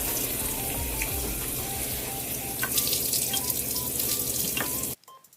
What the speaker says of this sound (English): slowly turn the water on to pre-flush the filter